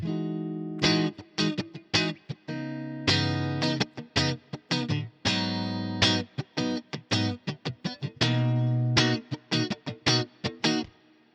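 Distorted electric guitar playing a choppy riff of short chords and muted stabs through a Nano Cortex amp modeler with a Fender Princeton-type capture, clear and close, with no talking.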